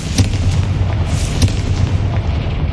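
Repeated Confringo spell blasts in Hogwarts Legacy, loud booming bursts over a dense rumbling game soundscape, several sharp hits across a few seconds, with no voices.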